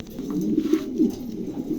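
A pair of adult pigeons coo in a steady, low rolling murmur, close and continuous, with soft repeated throaty pulses and no voices.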